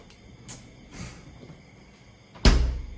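A few faint clicks and soft knocks, then a solid thud as the door of a small WORLDTECH WT-MB48 mini fridge shuts close by.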